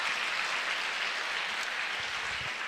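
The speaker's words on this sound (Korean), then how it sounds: "박수 좀 쳐봐라." Church congregation clapping at a worship finance seminar, a steady dense wash of applause held at even loudness across the whole stretch, with no talking over it.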